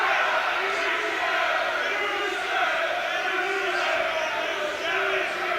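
A boxing arena crowd roars and cheers continuously for the local defending champion during a bout, a loud, sustained wall of voices with rising shouts.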